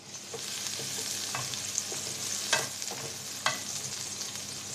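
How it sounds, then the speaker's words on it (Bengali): Chopped onion, garlic and green chilli fry in mustard oil in a pan, a steady hiss of sizzling broken by a few sharper stirring scrapes and spatula clinks. "পেঁয়াজ রসুনটা লাল লাল করে ভেজে নেব।"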